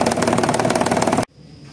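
A Mitsubishi Mirage engine with an unwanted rattling vibration runs in a rapid, loud, dense clatter close by, then cuts off abruptly after just over a second, leaving a quiet hiss.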